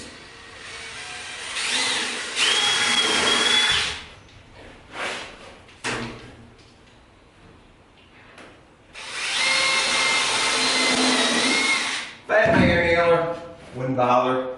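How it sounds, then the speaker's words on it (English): A power drill pre-drilling screw holes in wood for a bathroom wall build, several whining bursts of a few seconds each, separated by pauses with handling knocks and brief talk. "I'm going to pre-drill"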